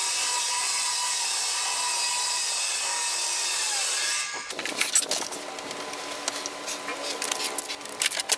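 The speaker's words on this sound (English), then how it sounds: "now the pieces can be cut to size now that they've been laminated on both sides" Laminated honeycomb core panel being cut to size, a steady high-pitched power-tool whine that cuts off abruptly, followed by irregular scraping and rasping cuts nearby.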